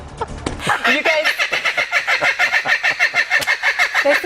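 In a news studio a bird squawks and cackles in a loud, rapid, rhythmic run of harsh calls, close and repeating steadily after a brief opening sound.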